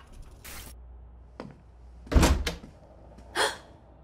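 A door opens and shuts in the video game République. Scattered mechanical scrapes build to a heavy central thunk and then a softer closing knock, close and clear, with no talk.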